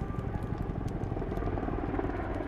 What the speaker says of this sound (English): We can hear the sound of the helicopters flying overhead, doing water drops.